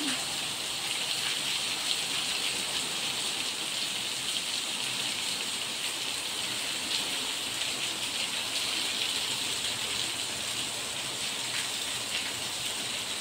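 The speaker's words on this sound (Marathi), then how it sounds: "किती सर्व पाऊस येतोय, बघू शकता तुम्ही" Heavy monsoon rain pours down in Mumbai, a dense, constant hiss of downpour drumming on surfaces, loud and unbroken throughout.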